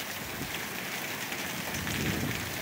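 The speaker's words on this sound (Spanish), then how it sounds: "cómo llueve, Néstor, es impresionante." Heavy rain pours down over a park, a loud, dense and unbroken hiss of drops hitting surfaces that holds steady throughout, with no voices.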